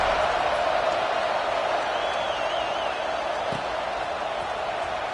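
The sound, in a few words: football stadium crowd buzzing after a score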